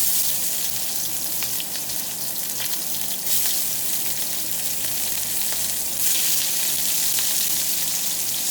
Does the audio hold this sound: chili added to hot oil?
yes